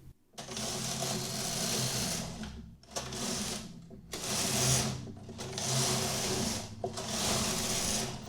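A knitting machine carriage is pushed back and forth across the needle bed, knitting rows of tuck stitch. It gives four sliding, rattling passes of a couple of seconds each, separated by short pauses.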